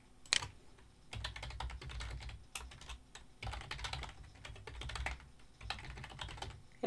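Close, quiet clatter of fingers typing on a computer keyboard while account login details are entered, bursts of rapid keystrokes with short pauses, no talking.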